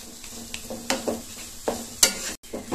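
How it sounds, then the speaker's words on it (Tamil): A thick mixture of melting jaggery, rava and banana is stirred in a pan, with a soft sizzle under a handful of distinct spoon scrapes and light taps against the pan, close up and without voices. "இந்த வெள்ளம் நல்லா உருகி ரவை பழத்தோட நல்லா ஒன்று சேர்ந்து மிக்ஸ் ஆகி வரணும்."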